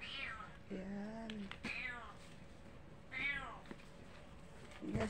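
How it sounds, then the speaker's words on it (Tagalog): A pet cat meows several times in drawn-out, plaintive cries spaced across a few seconds, close by and fairly clear in a quiet room with a faint steady background hum. "pasensya na kayo sa aking pusa. Ganyan talaga yan. Laging maiyakin."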